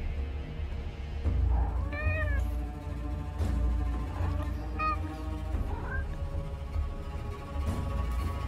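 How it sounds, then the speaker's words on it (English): A cat meows several times in the video game Forspoken, distinct rising cries over a steady low game ambience and music bed, fairly close and clear. "Is that a cat?"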